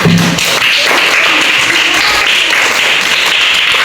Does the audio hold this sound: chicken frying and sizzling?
no